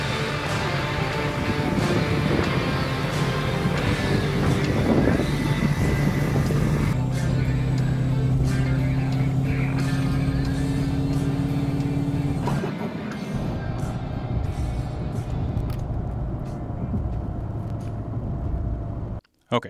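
A turbocharged truck engine rumbles steadily throughout on the street, with a low droning hum that shifts pitch as it drives, mixed with road noise and occasional voices.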